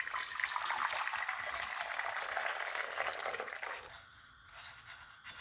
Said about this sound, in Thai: เทน้ำร้อนลงไปค่ะ